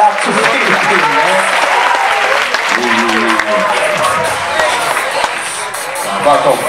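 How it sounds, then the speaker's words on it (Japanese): An audience at a dance battle event claps and cheers continuously, a dense, loud wash of applause with crowd noise and voices throughout. "拍手。"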